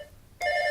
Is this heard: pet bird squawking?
no